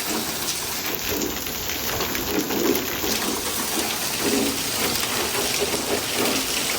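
Heavy rain pours down steadily in a dense, loud wash of hiss and splatter with occasional low rumbles, as water floods into a garage holding a C8 Corvette, with no one speaking.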